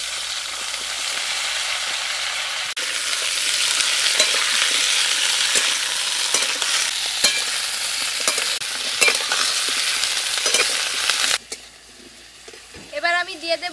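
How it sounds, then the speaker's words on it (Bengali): Potato, papaya and vegetable stems hit hot oil left from frying fish, a loud steady sizzle with stirring scrapes that suddenly drops to quieter crackling near the end. "ওই মাছ ভাজার তেলের মধ্যে আমি আলু পেঁপে আর ডাঁটাগুলো দিয়ে দেব।"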